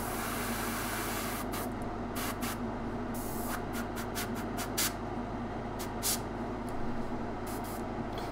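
An airbrush sprays paint onto a Darth Vader bust: a soft, steady hiss of compressed air broken by a series of short, brighter bursts as the trigger is worked, close and fairly quiet.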